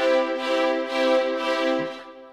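Sampled orchestral violins from 8Dio Century Ostinato in a flowing fast articulation sustain a rich chord with gentle swelling pulses, played alone and fading at the end.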